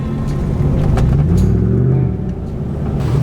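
A deep, steady exhaust rumble from an idling Chevrolet Trailblazer SS V8, low and throaty, holding constant with slight swells throughout.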